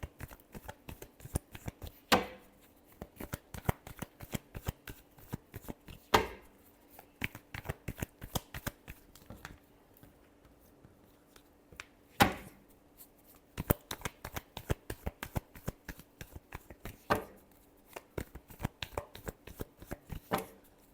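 Tarot cards are shuffled by hand at close range: quick, crisp riffling and flicking in repeated bursts with sharper slaps every few seconds, and no talking over it.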